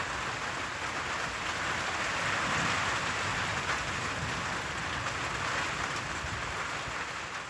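Steady rain pours down in a dense, even hiss during a night thunderstorm in Kansas. No thunder stands out, and the rain holds constant throughout.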